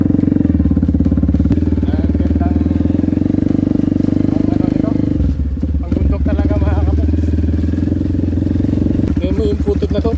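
A motorcycle engine chugs loud and close as it rides through thick mud during stormy weather, a steady rough drone with clattering, sputtering bursts as the bike pushes through.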